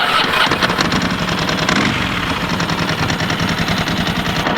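Ducati 916 motorcycle engine running steadily with the rattling clatter of its dry clutch, a close, loud, continuous mechanical chatter throughout.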